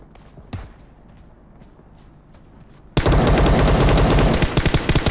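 PUBG Mobile gunfire: a single distant shot, then a loud sustained burst of rapid automatic fire starting abruptly and running to the end, close and dense.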